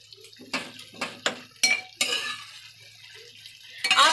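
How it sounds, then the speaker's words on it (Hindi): Cooked dal for dal makhani is mashed inside a pressure cooker with a utensil, giving a few sharp metallic clinks and scrapes against the pot with soft squelchy stirring between them, close up and with no talk. "आप चाहें तो कुकर में ही मैश कर सकते हैं।"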